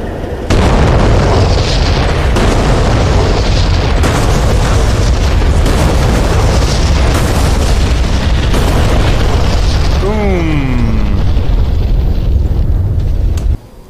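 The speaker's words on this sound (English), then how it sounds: "so that was how to drop six bombs in just a few seconds" JDAM bombs exploding in the DCS World A-10C Warthog combat flight game, six dropped in a quick ripple: a loud, sustained rumbling roar of overlapping heavy booms that ends with a brief rising whine before cutting off.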